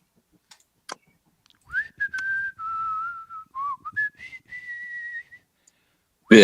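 A person whistles a short wavering tune, clear and close, with a few faint clicks before and a sudden loud noise at the end.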